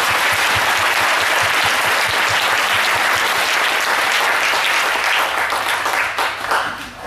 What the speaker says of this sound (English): Can you give a clap to the Lord for this leader?